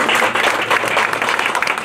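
An audience claps after a name is called at a funding announcement, a dense, fairly loud round of applause that runs steadily without talk.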